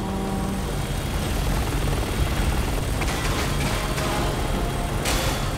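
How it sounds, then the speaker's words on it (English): A helicopter arrives in the video game Resident Evil 6, a steady loud rotor and engine roar filling the scene throughout, with no talk. "And now the chopper's here."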